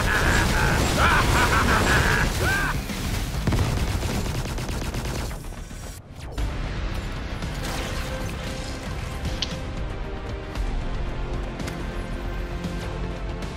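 Weapon fire in the Anvil: Vault Breakers video game, a loud dense burst of shots and crashes at the start that settles into busy mechanical game noise, with a player's voice over it.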